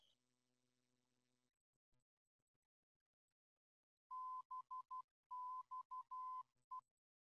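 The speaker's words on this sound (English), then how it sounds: "you're listening to a specific Morse code that's on that" A VOR navigation beacon's Morse code identifier comes through as a clear, steady tone in short and long beeps, forming a rapid, clipped sequence after a few seconds of near silence and faint hum.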